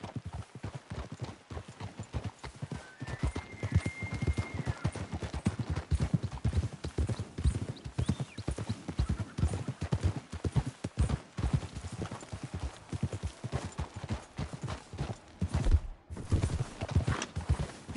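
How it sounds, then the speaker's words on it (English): Horses gallop with steady, rapid clip-clop hoofbeats through the Red Dead Redemption game world, loud and continuous for the whole stretch, with a brief whinny and faint sparse voices in the background. "We should leave the horses."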